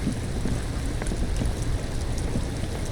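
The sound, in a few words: rain ambience in Disco Elysium video game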